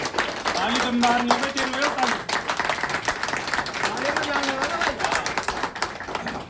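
A gathered crowd gives loud, sustained applause to welcome O.P. Babbar and the mayor, dense clapping running throughout while a voice talks over it.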